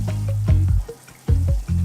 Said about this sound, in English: And then we're ready to fry.